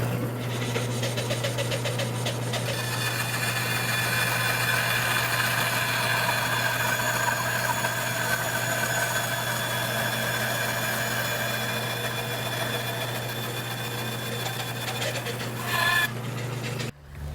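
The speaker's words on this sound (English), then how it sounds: "The bandsaw gives a nice even cut, so you don't have to do any chiseling." Bandsaw ripping a wooden tenon for a trestle table, cut against a fence set at 3/8 inch: a steady, loud machine hum with a low drone that runs unbroken for about sixteen seconds, then stops abruptly.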